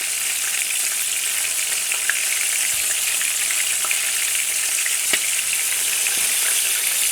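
Calamari rings deep frying in hot oil make a loud, dense, continuous sizzle and crackle up close, with a few faint clicks and pops over the steady hiss.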